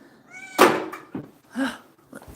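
A mother cat calls out with a loud, insistent meow, a short harmonic cry followed by a second meow and a faint third, all close by with no speech.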